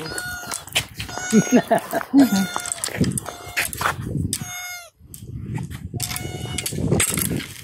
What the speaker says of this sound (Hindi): बिल्ली के छोटा सा बच्चा